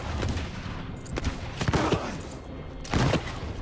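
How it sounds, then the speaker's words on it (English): Rapid volleys of gunfire in the video game Valor Mortis, several close, sharp bursts spread over a few seconds against a dense, noisy game soundscape. "I'm shooting your fucking weak spot."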